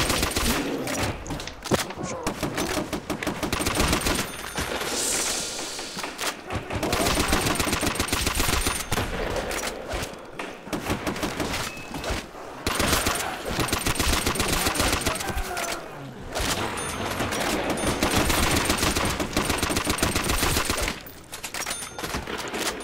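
MG42 machine gun fire in the Nazi Zombies video game, dense continuous bursts of rapid gunfire filling the whole stretch with only brief pauses, loud and close.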